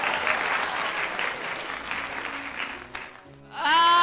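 A church congregation claps and cheers in a sustained, loud burst of applause that fades out near the end, after which music or a voice rises sharply.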